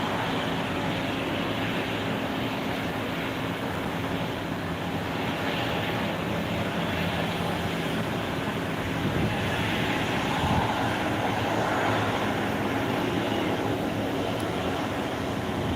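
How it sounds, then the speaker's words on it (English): A China Eastern airliner taxies at Phuket International Airport, a steady distant jet engine rumble and hiss that stays even throughout. "And China Eastern taxiing to Kunming."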